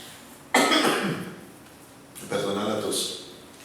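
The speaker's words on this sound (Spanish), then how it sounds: "Perdona la tos." Two separate dry coughs from someone speaking in a quiet room, close to the microphone, each a short harsh burst with a pause between them.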